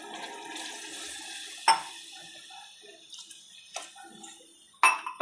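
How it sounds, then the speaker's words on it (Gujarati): Water pours into a pan of farali samo (sama/moraiya) millet khichdi with peanuts, a steady splashing stream followed by a few scattered clinks of the pot, close and fairly quiet. "પાણી એડ કરીએ,"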